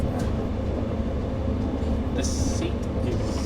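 Inside a railway carriage on a Northern Ireland train, a steady low rumble and rattle of the ride fills the space, with a brief hiss partway through and no clear talk over it.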